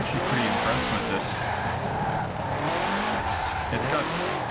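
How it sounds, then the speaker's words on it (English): The engine of a 1966 Volkswagen Double Cab truck drone steadily while the truck is driven, with road and wind noise underneath. A voice talks over it. "It's got quite a nice sound too for being a 66 Hippie truck"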